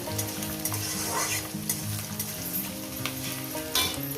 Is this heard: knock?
no